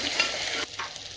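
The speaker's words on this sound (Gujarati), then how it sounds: "હવે આદુ લસણની પેસ્ટને સારી રીતે સાંતળી" Ginger garlic paste sautéing in hot oil with a pinch of asafoetida and curry leaves gives a steady, close frying hiss that drops noticeably quieter about halfway through.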